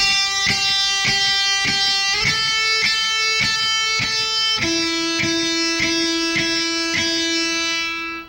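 Electric guitar playing a simple repeated rhythm, a clean chord struck in even pulses that shifts up the neck twice, ringing clearly with no talk.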